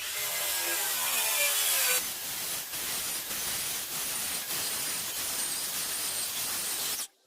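A DeWalt 60-volt saw rips quickly through a regular 2x4, a loud, close, continuous buzzing cut of several seconds with a brief change in tone partway through, then stops abruptly.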